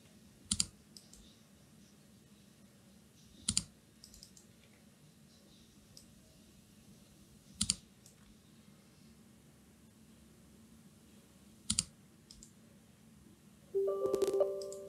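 Computer mouse clicks during a software install, four or five sharp isolated clicks spaced a few seconds apart over a quiet hiss, followed by a brief burst of busier clicking near the end.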